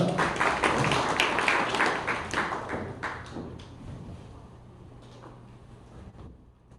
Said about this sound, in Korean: 김남주 대표님 박수로 환영 부탁드립니다